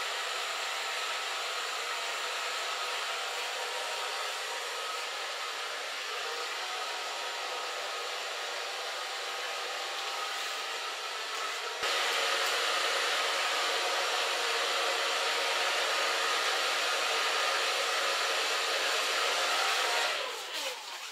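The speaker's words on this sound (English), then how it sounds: "So far blow drying." Hair dryer blowing on curly hair during a salon styling, a steady close whooshing roar that runs continuously, growing slightly louder partway through and cutting off near the end.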